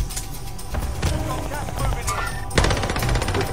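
Sustained automatic gunfire rattles through a video game firefight, with rapid, steady shots filling the whole stretch and a harsher, louder burst near the end over a busy mix of game sound.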